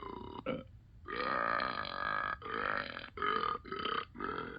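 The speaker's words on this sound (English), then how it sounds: "this button right here, will make Ben burp if you tap it" Ben the dog burps in the Talking Tom and Friends app game: a long, loud cartoon belch broken into several gurgling bursts, heard alone.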